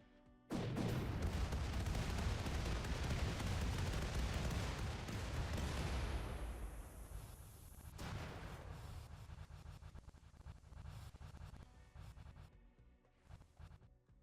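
Ship weapons fire in a RimWorld battle, delivering a dense barrage of loud booming blasts for about six seconds. After that the volume drops into quieter rumbling, with scattered impacts trailing on to the end.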